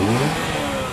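A 2009 Pontiac G5's engine revs briefly and fairly quietly, its exhaust note a short steady drone with a slight rise and fall, heard close by and alone with no voices.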